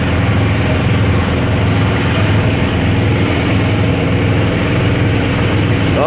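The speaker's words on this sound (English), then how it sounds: "This sounds like a finely tuned automobile." Steady, loud engine drone of a golf cart running continuously on a street in Avalon on Catalina Island, with no talk over it.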